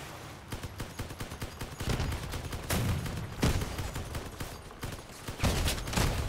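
Cannon gunfire in the vehicle combat video game Crossout, rapid bursts of booming shots and impacts coming in clusters, fairly quiet overall with an irregular, rattling rhythm.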